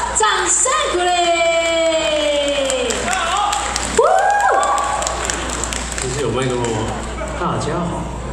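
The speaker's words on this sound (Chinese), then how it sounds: "掌声鼓励" Crowd cheers, whoops and scattered clapping at an outdoor band concert in a park, greeting a Tayal singer taking the stage, with an MC's amplified voice talking over the noise and a brief sustained tone near the start.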